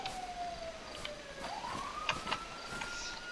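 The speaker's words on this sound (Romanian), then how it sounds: "Mi se pare mie să se aude poliția." A police siren in the video game FiveM wails, sweeping slowly down and then rising again, fairly distant, with scattered clicks and background noise around it.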